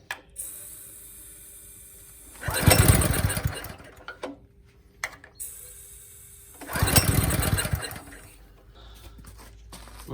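A small engine on a hydraulic power pack bursts into running twice, each a loud, rough roar of about two seconds that dies away, with quieter mechanical clatter between the attempts.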